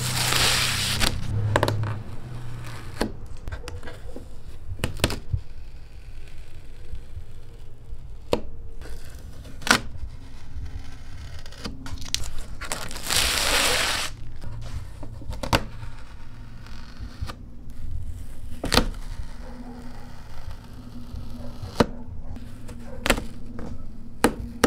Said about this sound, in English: Yeah, I love taking off that plastic piece. It is like so satisfying just pulling off each